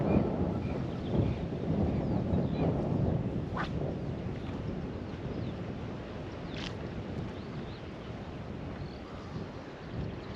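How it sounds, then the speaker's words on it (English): Steady wind buffets an outdoor microphone at a fishing spot, a loud continuous rumble that eases slightly over time, with a couple of brief faint bird-like calls. "Wait for that wind to calm down."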